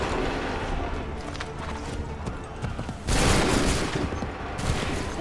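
A musket volley rings out in the video game Assassin's Creed 3 Remastered, with dense crackling fire and a louder burst midway, continuous across the clip amid battlefield din.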